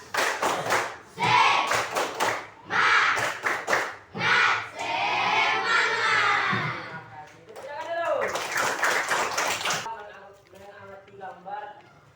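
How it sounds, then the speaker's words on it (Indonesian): A classroom group performs the rhythmic 'tepuk semangat' spirit clap, bursts of sharp claps in patterned rhythm with chanted voices between them, close and loud, followed by a teacher speaking. "kita buka dengan tepuk semangat"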